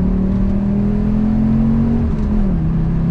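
Fiat Coupe engine revving, a loud steady close drone that holds its pitch, then drops slightly toward the end as the revs ease, with no talk.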